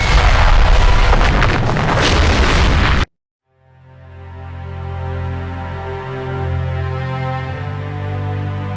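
Loud bomb explosions in the WWII flight combat game Heroes over Europe: a dense, roaring barrage that cuts off abruptly into silence, then a sustained low rumble with tonal engine-like drone swells back up, with no talk.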